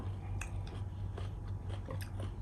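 Someone eating a spicy Thai fruit salad, soft crunchy bites and chewing repeated several times up close over a low steady hum, with no talk.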